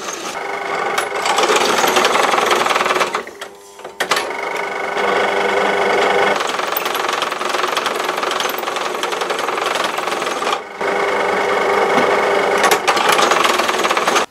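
A Parkside PTBM 500 drill press bores into hardened steel, a plasma-cut block, a dense mechanical whirring and grinding that runs steadily with two brief dips where the bit slows or stalls in the material, close and loud.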